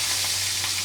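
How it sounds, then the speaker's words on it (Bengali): Fish frying in hot oil in a wok, a close, steady sizzle that holds evenly and loudly throughout with no talk over it. "আজকে কড়াইতেই ভাজি করছি মাছ ভেজে নিলাম।"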